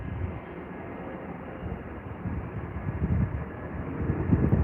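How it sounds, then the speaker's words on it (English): An airliner arrives on the runway at London Heathrow in the evening, its engines a steady distant roar that swells slightly louder toward the end. "watching the final arrivals onto the runway this evening"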